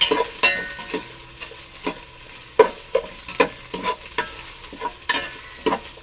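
Steady stirring and sizzling of ginger sautéing in a hot pot, with sharp scraping clicks of a utensil recurring every half second or so over a constant frying hiss.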